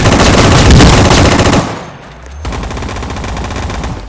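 Loud, close automatic AK rifle fire in a shooting video game, a dense rapid burst that breaks off briefly and then resumes in another sustained stream.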